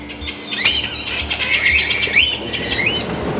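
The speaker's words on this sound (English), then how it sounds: "You can hear all sorts of buzzing and croaking and chirping" Birds squawk and chirp loudly in a dense, continuous chorus inside the Moody Gardens Rainforest Pyramid in Galveston, Texas, with sharp rising and falling calls over a steady hum of background noise.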